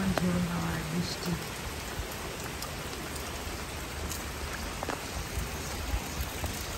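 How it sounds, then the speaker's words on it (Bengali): Steady, dense rain pours down in stormy wind outdoors among many trees, a continuous hiss with scattered drip taps, fairly faint and without talk. "পরিমাণ ঝোড়ো হাওয়া আর বৃষ্টি।"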